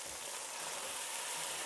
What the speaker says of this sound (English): Now we're stirring in tomato passata.